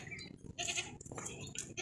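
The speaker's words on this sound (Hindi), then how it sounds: "बड़ी अच्छी वज़नी बकरी है, खूबसूरत पुअर मक्खी चीनी है" A Makhi Cheeni goat, a hefty dairy doe with kids, bleats several times in short bursts, fairly close and fairly quiet, with rustling between the calls.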